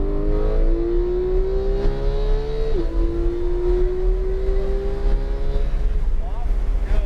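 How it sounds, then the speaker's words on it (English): A Porsche 911 GT3 accelerating on a race track from inside the car, engine tone climbing steadily with one sharp gear-change drop partway, loud and close, with an instructor's voice speaking over the engine. "start feeding on the throttle a little bit,"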